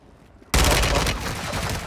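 Loud burst of gunfire from the video game Call of Duty Warzone, a sudden dense volley after a quiet half second that rolls on continuously to the end, with no talk over it.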